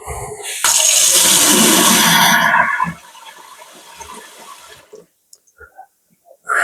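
A rushing gush of water pours loudly into a clogged sink for a couple of seconds, then drops to a softer gurgling drain before quieting into scattered small knocks.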